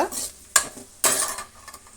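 Rice bath cooks on a low flame in a pan, with a soft sizzle under two quick scrapes of a spoon stirring against the metal; close and moderately loud.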